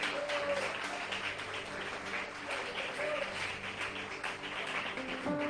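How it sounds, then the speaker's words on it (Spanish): A church congregation claps during a sermon, a steady, moderately faint ripple of applause with scattered voices underneath. "denle ese aplauso al Señor"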